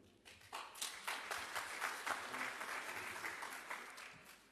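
Audience applause fills a lecture hall at the 19th Dr. Theo Ben Gurirab Lecture Series, a steady wash of many hands clapping for about four seconds with no talk over it.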